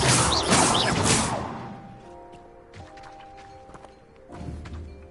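Expelliarmus spell cast in Hogwarts Legacy: a loud, bright magical blast with a rushing whoosh, followed by a few scattered thuds and impacts and a second softer burst near the end.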